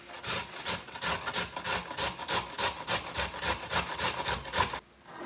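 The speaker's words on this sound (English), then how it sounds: "Now we start grate the beets." Beets rubbed against a kitchen grater for borscht, a steady run of rapid rasping strokes, close and fairly loud, stopping just before the end.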